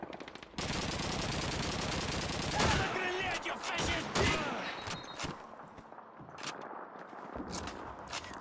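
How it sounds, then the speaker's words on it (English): Sustained machine-gun fire in the Call of Duty 2 Russian campaign, a dense continuous rattle of rapid automatic bursts at the start, then scattered shots and distant gunfire continuing through the rest of the battle. "Those machine guns are crazy, man."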